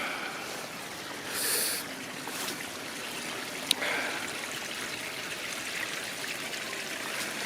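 A small stream, hidden under overgrown vegetation beside a walking path near a railway line, gives a steady, faint rushing wash of flowing water throughout, with no voices.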